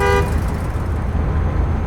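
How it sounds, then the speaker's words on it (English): A car horn sounds a short, loud toot at the start, then gives way to heavy engine and road noise from a passing vehicle nearby. "I believe he honked at me."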